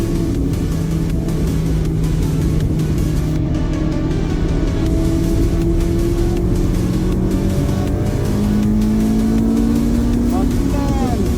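Car lapping the Braga Vasco Sameiro racetrack on a track day, its loud engine droning steadily close up with rising and falling revs through the gears, under a voice talking over it.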